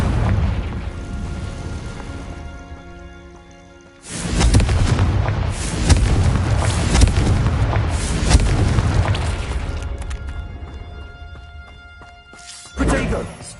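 A Confringo blasting curse goes off as a heavy booming explosion that swells suddenly and rumbles on for several seconds. A second, shorter thump lands near the end, with a voice underneath.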